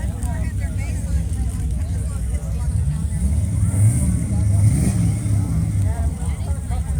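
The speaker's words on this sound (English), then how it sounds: "I love this sound. I want them all to start up." Several car engines idle and rev at an outdoor car show, a steady low rumble with a rising rev in the middle, heard at moderate distance with general background noise.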